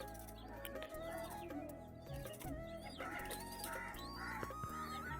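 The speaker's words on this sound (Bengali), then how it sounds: "আমাদের এখানে মুরগি আছে কটা," Chickens clucking outdoors in a yard among other birds, a busy, continuous layer of overlapping clucks and calls at moderate distance with no speech.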